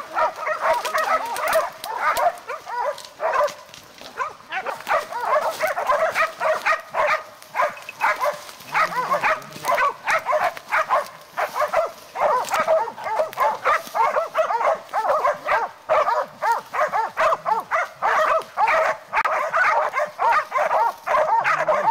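Hunting dogs bay and yip nonstop at a cornered hog, a dense, loud chorus of overlapping barks and whimpers, with faint grunts beneath.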